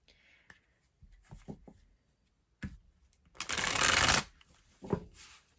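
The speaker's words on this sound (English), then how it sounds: "this deck may take some time to shuffle" A deck of tarot cards is handled and riffled up close, with scattered soft flicks and taps, then one dense burst of shuffling, and a few more taps after it.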